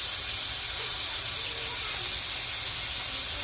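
Tomahawk and cowboy ribeye steaks sizzle on a hot grill, a steady broad hiss and crackle close by that holds at an even level throughout with no pauses.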